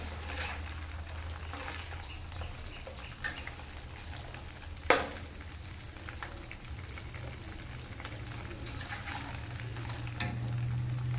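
Homemade ghee sizzles steadily in a pan, a soft continuous crackle with a few brief louder pops, no voices over it.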